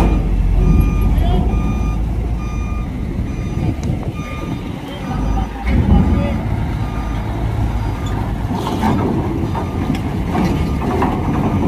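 A Komatsu HD785 dump truck at Merak port sounds repeated tonal reversing beeps at a steady rhythm over heavy diesel rumble and mechanical clatter, with busy port and traffic noise around it.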